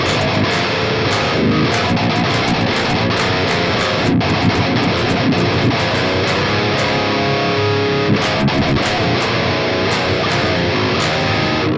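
Heavily distorted electric guitar through an Axe-Fx modeling an Engl Savage amp with no pedal, dense fast palm-muted riffing with brief stops, loud and continuous.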